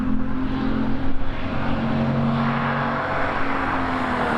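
An old Holden racing up a lakeside hillclimb course, its engine a steady droning roar that stays loud and fairly close throughout, with a faint rise and fall in pitch as it climbs.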